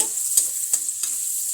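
Chopped carrots stir-fried in a pan for vegetable noodles, a bright steady sizzle with three distinct scraping stirs of the spatula, close and alone.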